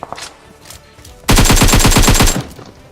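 Rapid automatic gunfire in the mobile battle royale game PUBG Mobile, a loud sustained burst of about a dozen evenly spaced shots lasting roughly a second, preceded by quieter scattered background game sounds.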